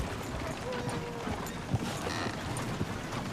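Horse hooves clip-clop faintly at a walking pace in Red Dead Redemption 2, uneven thuds buried in a noisy outdoor game ambience.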